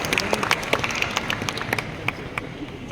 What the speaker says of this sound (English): with again a big round of applause from all of you